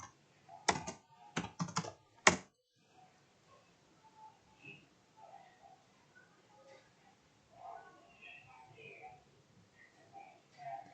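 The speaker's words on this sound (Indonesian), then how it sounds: "Kemudian di sini kita bisa ketikkan ipconfig release. Kemudian kita ketikkan juga ipconfig renew." Ipconfig commands being typed on a computer keyboard, with a quick cluster of sharp, close key clicks early on, then faint scattered taps and low background noise.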